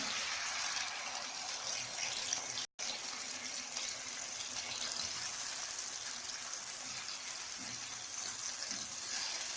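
Marinated chicken going into a hot pan for chicken vegetable spaghetti, a steady, fairly loud hiss of cooking liquid that holds without a break across the whole stretch, with one brief dropout near the start.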